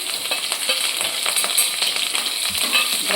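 Cumin, asafoetida, green chili and garlic frying in hot oil for a corn dish, a dense, continuous hiss and crackle with scattered small pops, fairly close and steady throughout.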